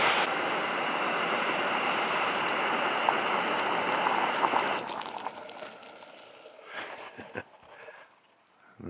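Water coming to a boil for coffee at Rookie Lake, Minnesota: a loud, steady bubbling hiss for several seconds that then fades out, leaving a few scattered clinks and soft handling noises.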